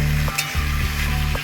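Chicken pieces frying on a high flame for kosha, a loud close sizzle broken by a few scraping stirs of the spatula against the pan, with no talk.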